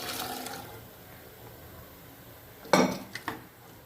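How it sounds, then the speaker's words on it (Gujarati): Boiled kidney beans tipped into a pot of cooked onion and tomato for rajma, a short wet splash and clatter near the end after quiet kitchen background. "હવે આપણે તેમાં બાફેલા રાજમા એડ કરી દઈશું"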